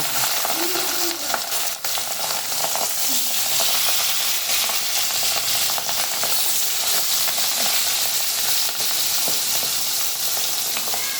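Rohu fish sizzles and spatters steadily in hot oil, a dense close crackle with occasional pops and brief clinks throughout.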